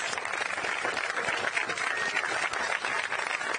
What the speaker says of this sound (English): Start clapping and don't stop until Doberstein appears.